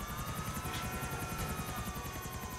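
Helicopter flying in the video game GTA IV, a steady, rapid thumping of rotor blades over an engine whine, close and continuous with no pause.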